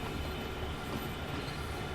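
A train runs in the Train Sim World video game during flat switching in a bowl yard. It gives a brief, steady low rumble of rolling cars with no voices.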